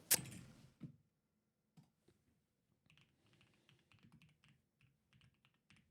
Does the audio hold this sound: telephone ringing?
no